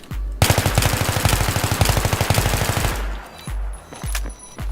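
An M16A3 rifle with a heavy barrel fires full auto in a video game, a loud, rapid, steady burst of about three seconds, followed by a few sparse single shots and shell clinks.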